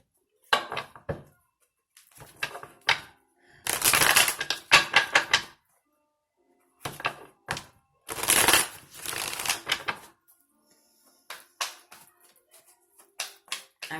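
Oracle cards being shuffled during a tarot reading, with several separate bursts of quick papery riffling and slapping, close and fairly loud, broken by short pauses.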